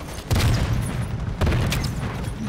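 Two heavy, close booms of a bomb exploding in Call of Duty MW3 gameplay, about a second apart, each followed by a loud rumbling roar that stays high through the rest of the clip.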